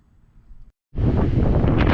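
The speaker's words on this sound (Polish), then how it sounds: "Bardzo mocno wieje" Strong wind roars and buffets the microphone at a beach in a loud, steady rush, starting abruptly after a brief quiet moment.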